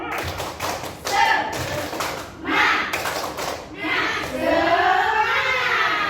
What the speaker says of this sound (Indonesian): Sebentar saja, sekali saja, mari kita tepuk semangat.